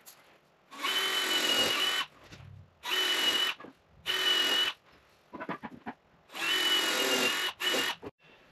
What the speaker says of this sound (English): First, we'll lay these out and drill them countersinks